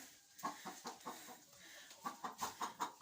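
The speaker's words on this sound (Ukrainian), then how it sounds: "Ця квочка щось сильно сердиться." A broody hen clucking angrily when disturbed at the nest during egg collecting, a close series of sharp, rhythmic clucks in two bursts with a short pause between, no talk.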